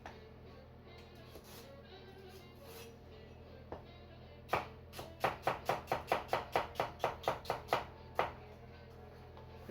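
A vegetable knife chops vegetables into equal pieces on a board for hamburger bean soup, a run of about a dozen quick, evenly spaced crisp knocks, close and clear, after a few scattered cuts in a quiet kitchen.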